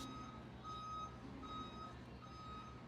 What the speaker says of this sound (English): you can hear the food truck pulling up at the moment with its beep beep